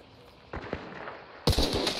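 Gunfire in Hunt: Showdown, two sharp shots about a second apart, the second louder and closer with a brief ringing tail, no talk.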